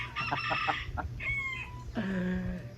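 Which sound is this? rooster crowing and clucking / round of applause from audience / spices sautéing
rooster crowing and clucking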